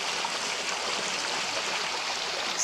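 A waterfall stream flows in a constant, close rushing hiss with no break or other sound.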